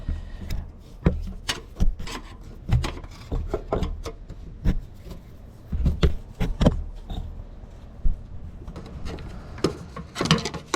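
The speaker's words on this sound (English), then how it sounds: "prying it with the screwdriver over here to see if I can get this loose" A screwdriver works at a transmission cooler hose on a 2000 Jeep XJ, producing repeated close scraping, rubbing and clicking metal-on-rubber sounds in uneven bursts, with no talking.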